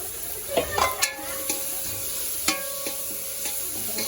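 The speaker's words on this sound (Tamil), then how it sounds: "எல்லாம் வதங்கி வரட்டும் நல்லா முருகி வதங்கி வரட்டும்" Onion, garlic and ginger sizzle in a pan while a spoon stirs, with a steady frying hiss broken by several sharp scrapes and taps against the pan.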